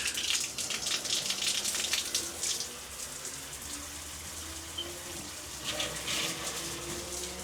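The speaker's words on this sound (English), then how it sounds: "Water's coming back through the pipes." Hot water rushes and splashes steadily back through bathroom sink plumbing after being turned on, a continuous hiss with louder surges at the start and near the end, with no voices.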